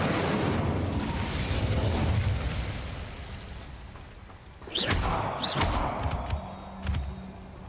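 Incendio fire spell in Hogwarts Legacy, a roaring whoosh of flame that fades, then several sharp bursts and crackling impacts follow in quick succession, loud and with no talking.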